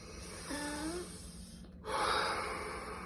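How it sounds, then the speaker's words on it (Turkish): A single deep breath drawn in sharply, followed by a louder rushing exhale after a short pause, close and clear. "derin nefes alıyoruz burnumuzdan."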